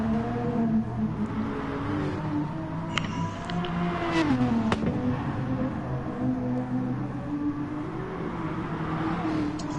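An Aston Martin race car in a racing video game holds a steady, droning engine note that rises and falls slightly through corners, continuous and close, with no talking.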